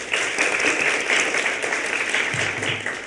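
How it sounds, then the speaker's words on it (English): Clapping at a Tri Alpha honor society induction ceremony as the audience applauds the guest speaker, President Gilliam: a steady, dense round of hands from a crowd, moderately loud and unbroken throughout. "And another round of applause for our wonderful speaker"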